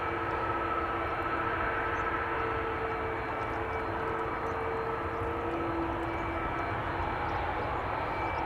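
A British Airways airliner on flight 430 from London Heathrow lands at Amsterdam Schiphol Airport, making a steady, unbroken jet roar at moderate distance that holds level from start to finish.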